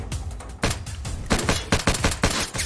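Rapid bursts of gunfire and explosive blasts from a Roblox War Tycoon battle around a Leopard 2A7 tank, loud and dense, with several sharp cracks tumbling over one another and no speech.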